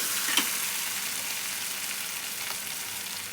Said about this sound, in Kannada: ನೋಡ್ರಿ, ಇದು ಎಣ್ಣೆ ಒಳಗೆ ಫ್ರೈ ಆಗೈತಿ.